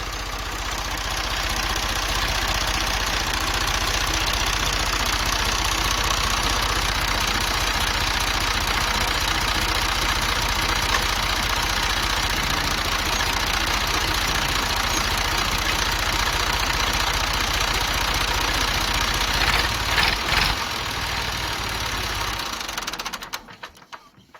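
A repaired tractor engine, fixed for a stuck gear lever, idles steadily and close by with a dense, even mechanical rumble and a faint rapid knock that runs the whole clip before cutting off at the end.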